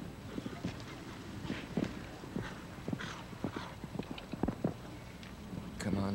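Show-jumping horse galloping in a competition arena, a run of rhythmic thudding hoofbeats, fairly close and steady, with a brief clatter near the end.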